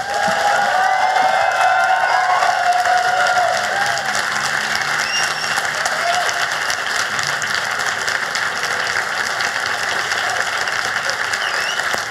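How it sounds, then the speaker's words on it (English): A live audience at a political discussion event gives a huge round of applause, loud and sustained for twelve seconds, a dense patter like heavy rain with a few whoops or voices early on. "can we just have like a huge round of applause for Gaya and Aaron"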